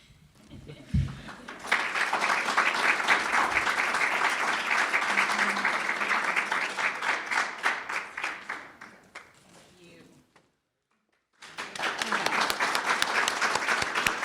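Sustained applause from an audience at an awards ceremony, dense clapping swelling and holding for several seconds, fading out into a brief silence, then starting up again strongly.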